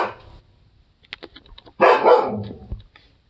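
A husky barks in a loud close burst of yelps and bow-wows, preceded by fainter scattered sounds, with no talk.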